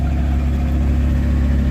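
A car engine runs close by with a steady low, droning hum while being revved, its tone even and continuous with no voices over it.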